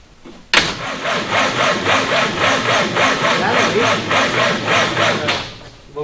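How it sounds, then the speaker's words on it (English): A Go Devil engine with an exhaust leak bursts into life and runs at a rapid, loud, rough chugging pace for several seconds before cutting off abruptly. "A little bit of an exhaust leak."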